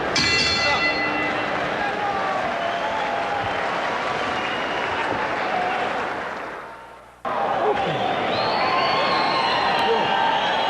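At a boxing match between Pacquiao and Emanuel Lucero, the ring bell clangs to end a round over a roaring arena crowd, with the noise briefly dipping before the crowd swells again.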